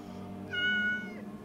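A cat in a fantasy role-playing video game gives a single short meow, clear and close, over a low steady game ambience.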